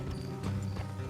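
Horse hooves clop along a road in the open-world western game Red Dead Redemption 2, a steady close trot under low rumbling game ambience.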